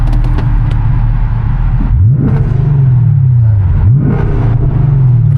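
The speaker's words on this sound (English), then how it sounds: "All I got is exhaust." A Chevrolet Camaro SS exhaust revs hard at close range, two rising-and-falling throttle blips swelling over a deep, constant rumble while cruising to a car meet in Houston, Texas.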